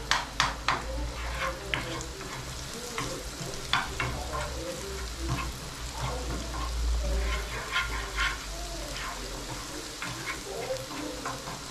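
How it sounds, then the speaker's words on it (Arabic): Garlic sautéing in butter in a pan, a steady close sizzle and frying crackle running the whole time, with scattered sharper pops and a few light stirring scrapes. "بنشوحها كده تشويحه بسيطه لحد ما ريحتها تطلع"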